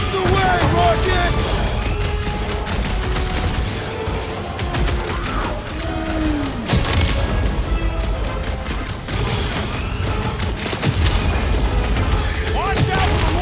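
Booming bomb blasts and crashes during a chaotic boss fight in the Guardians of the Galaxy video game, recurring over dense battle noise and music while characters shout.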